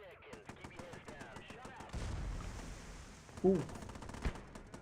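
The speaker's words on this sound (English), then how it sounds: "Just calling in mortar strikes on the village." Rapid automatic gunfire rattles in bursts at the start of a Vietnam War video game battle, followed by heavy rumbling mortar blasts and more scattered shots, with a brief exclaimed voice in the middle.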